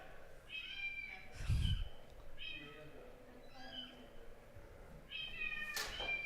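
Cat noises from a crowd at a lightsaber nationals elimination bout: repeated drawn-out meows, likely voices imitating a cat, mixed with talk and a thud in a large room.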